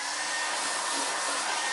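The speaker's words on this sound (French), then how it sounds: "on a le petit sèche-cheveux qui va bien" A small hair dryer blows steadily at close range, a loud continuous broadband whoosh with a faint motor whine and no break over the whole stretch.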